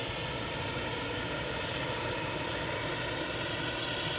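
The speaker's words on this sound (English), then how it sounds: "A319 heading down to London Heathrow." British Airways Airbus A319 airliner departing Manchester Airport: a loud, steady jet engine roar filling the whole moment without pause, close and continuous.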